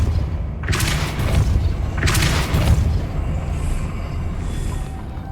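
Depulso spell cast twice in the Hogwarts Legacy video game inside a cairn dungeon: two loud, booming blasts about a second apart, each with a hissing burst that fades over a low, steady rumble, with no voices.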